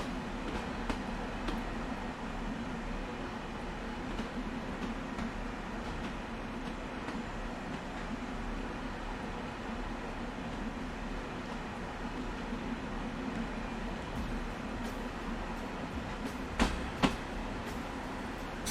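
Long Island Rail Road train running in the Train Sim World 2 video game, a steady low rumble and hum of the moving train throughout, with a faint brief click near the end.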